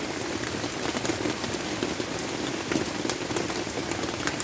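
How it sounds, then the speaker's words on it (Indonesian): Heavy rain pours steadily in a forest near Galunggung, a dense continuous hiss of drops striking leaves and surfaces close by, with scattered louder splats and no talking. "Hujan itu."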